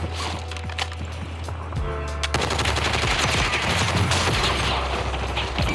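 Warzone gunfire as several players shoot at once, producing a sustained, fast rattle of automatic weapons with sharp individual cracks, loud and close throughout.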